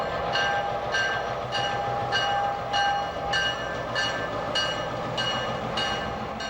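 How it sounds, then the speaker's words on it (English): An EMD SW1500 1500-horsepower diesel switcher locomotive rolls past in Texas, a steady rumble with rhythmic clicking wheel beats over rail joints at an even pace. "The second unit, an EMD SW1500, is a 1500 horsepower switcher"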